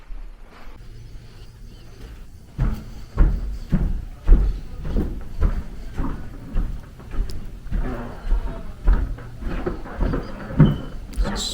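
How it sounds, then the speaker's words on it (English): Old floorboards creak and thud under footsteps in a hotel corridor, a run of irregular knocks and creaks growing busier after a quiet start, with faint background sound. "Squeaky, squeaky floors."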